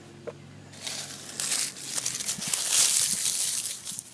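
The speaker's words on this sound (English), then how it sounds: "I'm actually going to pinch off a few of these bottom leaves." Tomato plant's bottom leaves pinched off by hand in a container garden: soft, close crinkling and crackling rustles come in short irregular bursts, quiet and with no talk.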